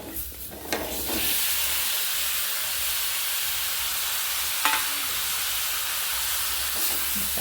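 Chopped raw mango and tomato hit a frying chilli and turmeric masala in coconut oil, a loud hissing steam-like sizzle after an initial clatter, with a spatula knock midway, close and continuous without voices.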